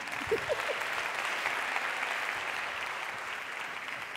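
Steady applause from a conference audience at a mainstage talk, dense even clapping with a few faint voices early on, sustained at moderate loudness throughout.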